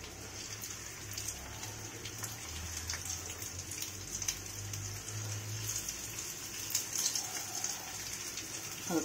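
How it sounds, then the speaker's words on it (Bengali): Boiled potatoes stuffed with spiced minced meat (keema) fry in a small amount of oil over low heat, giving a steady, soft, continuous sizzle that stays even throughout. "আলুগুলো যেহেতু সেদ্ধ করা আছে একটু এপিটপি করে ভেজে নেব।"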